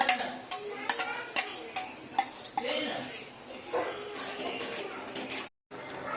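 Pasta with mixed spices being stirred in a pan over low-medium gas: spoon scrapes and clinks against metal recur in a loose rhythm, close and fairly quiet, with birds chirping faintly in the background.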